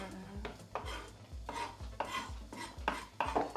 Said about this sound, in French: Allez, on va couper la viande en 2.